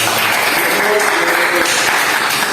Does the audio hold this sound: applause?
yes